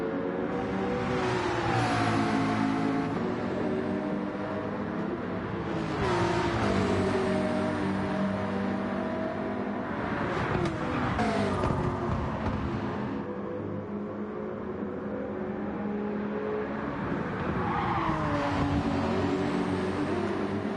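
Race cars lap Brands Hatch in Gran Turismo 7, engines droning and revving through gear changes, several cars rising and falling as they pass, continuous and fairly loud with no voices.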